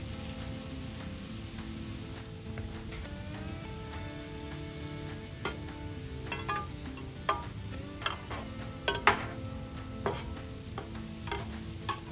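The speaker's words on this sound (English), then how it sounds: "We're just going to saute them to where they are" Ingredients for a stuffing mix sauté in a pan on a Big Green Egg grill, a steady sizzle running throughout with occasional sharp clicks and scrapes of stirring, growing busier toward the end.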